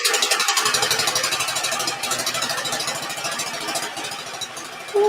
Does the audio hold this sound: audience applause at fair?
no